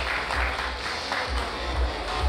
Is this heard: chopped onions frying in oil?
no